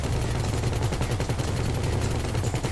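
Gunfire in GTA 5 rattles on without a break, rapid and loud like a machine gun, heard alone.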